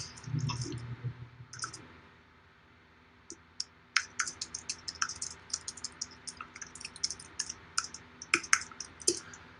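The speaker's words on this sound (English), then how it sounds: "I didn't realize I was typing so loud" Typing on a computer keyboard during a simulcast lecture: rapid irregular bursts of sharp, close clicks and key taps, starting after a low murmur and continuing in dense clusters.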